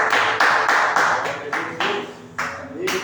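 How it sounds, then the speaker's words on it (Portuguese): A congregation at an Assembly of God church service in Eunápolis claps in sharp, rhythmic bursts, roughly one every third of a second with small gaps, over a tonal voice and hall resonance. "graças a Deus e as palmas do Senhor Jesus"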